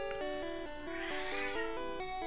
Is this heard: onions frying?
no